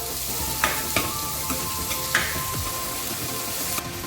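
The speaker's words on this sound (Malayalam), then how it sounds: "സവാള ചെറുതായിട്ട് അരിഞ്ഞു ഗോൾഡൻ കളറാണ് മൂപ്പിച്ചെടുക്കുക" Chopped onions fry in a pan for a Kerala-style paneer masala, giving a steady sizzle with a few soft stirring clicks and scrapes near the mic, no voices.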